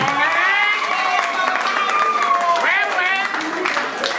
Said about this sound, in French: Applaudissons pour grâce aussi.